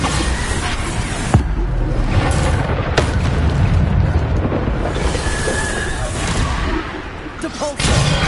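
The Bombarda spell bursts in Hogwarts Legacy on PS5 with a heavy booming blast and rumble, loud and dense, over game sounds with a brief click and rustle.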